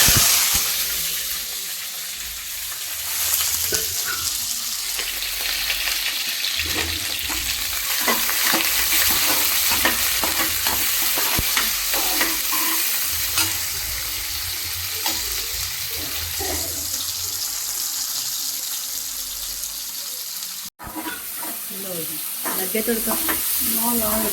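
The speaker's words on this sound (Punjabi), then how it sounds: "ਤੇਲ ਤਾਂ ਸਾਡਾ ਗਰਮ ਹੋ ਗਿਆ ਆ ਇਹਦੇ ਵਿੱਚ ਪਾਵਾਂਗੇ ਹਰੀ ਮਿਰਚ ਲੰਬੀ ਲੰਬੀ ਕੱਟੀ ਹੋਈ ਪਿਆਜ਼ ਤੇ ਨਾਲ ਜੀਰਾ" Green chilies cut lengthwise, onion and cumin sizzle and fry in hot oil in a home kitchen, a loud continuous crackle with occasional stirring scrapes and brief running-water sounds.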